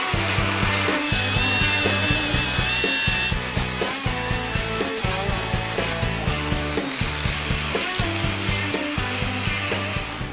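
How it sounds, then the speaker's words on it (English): A car body panel is shaved down by hand, rhythmic rasping strokes repeating steadily and close, with no talking. "Just going to shave it a little bit and then a little bit of Bondo"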